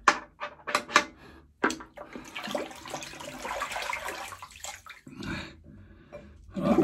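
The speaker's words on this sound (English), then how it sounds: "Let me just get some more water in this sink." Tap water runs into a bathroom sink during a wet shave, a steady close splashing stream of about three seconds, framed by sharp clicks and knocks of handling before and after.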